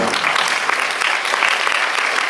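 An audience applauds steadily and densely at the opening ceremony of the Directors' Fortnight in Cannes, a full room clapping loudly and continuously throughout.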